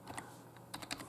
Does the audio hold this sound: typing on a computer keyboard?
yes